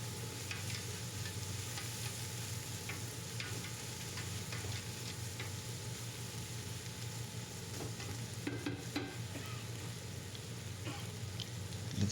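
Kangkong laing stirred in a pan with bagoong alamang from Pangasinan, a steady sizzle and frying hiss running throughout with soft scraping stirs on top, fairly quiet and even, no talking.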